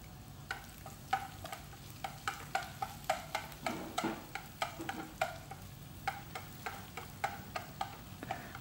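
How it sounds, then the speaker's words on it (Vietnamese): Garlic and shallots frying in a pan give a soft, steady sizzle, with regular light spatula taps and stirring scrapes throughout, fairly quiet and without voices. "Và sau một hồi phi thì tỏi và hành tím cũng vừa vàng rồi nè quý vị"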